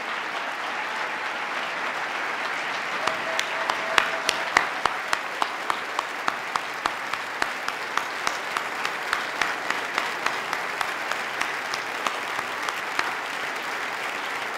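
An audience at a 2018 State of the State address applauds police and first responders standing in the hall, steady crowd clapping with distinct sharp claps close by, sustained throughout.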